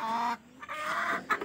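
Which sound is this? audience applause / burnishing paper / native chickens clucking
native chickens clucking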